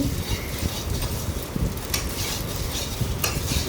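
Carrot, capsicum and beans stir-fry in a kadai, a spatula scraping and tossing the vegetables over a soft steady sizzle, with a few sharper clinks of metal along the way.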